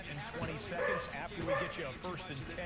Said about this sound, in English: I don't know how well you can hear my dog barking.